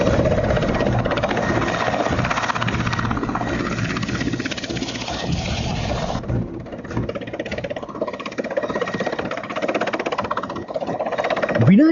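Two military aircraft fly in over the Mallavi defence line in the Wanni, giving a steady droning engine rumble that eases slightly partway through, with a narrating voice throughout.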